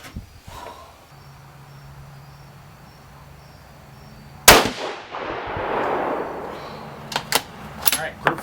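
A 6.5 Creedmoor rifle firing 140-grain rounds cracks once, loud and sharp, echoing outdoors over a steady background of chirping crickets, followed by a few faint clicks of handling.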